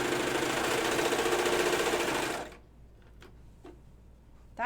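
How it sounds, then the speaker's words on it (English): A serger sewing machine runs steadily at close range for a couple of seconds, a busy mechanical whir that stops abruptly, leaving a few light clicks and handling noises. "use my serger because I don't really have it set up for this yet"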